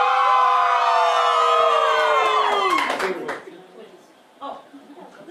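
A crowd at a Halloween costume parade in a mansion cheers in a rising, voice-heavy burst, with sliding whoops and calls that then fade into scattered shouts and claps.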